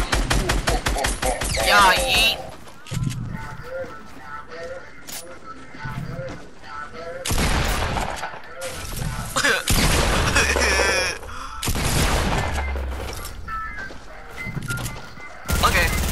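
Video game gunfire in a shooter crackles in repeated bursts and booms, loud and close, with a player talking briefly between volleys.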